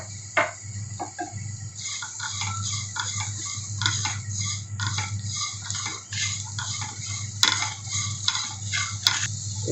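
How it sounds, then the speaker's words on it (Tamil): Dried red chillies, garlic and onion roast in a pan with a dense, continuous crackle of fine pops over a low steady hum, close and even throughout. "இப்போ வரமிளகாய் சேர்த்து அதையும் வறுத்து எடுத்துடலாம்."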